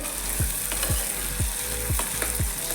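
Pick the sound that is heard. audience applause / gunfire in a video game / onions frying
onions frying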